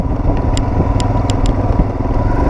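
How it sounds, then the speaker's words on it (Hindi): A motorcycle is ridden slowly after dark on a Ladakh road trip toward Hanle, its engine a close, steady rumble with a few sharp clicks or clatters over the top. "सलीम चला रहा है सत्या की बाइक"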